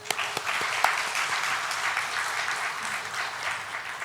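A church congregation at a Sunday worship service applauds together, a dense, even burst of clapping lasting a few seconds, with a couple of sharper claps standing out at the start.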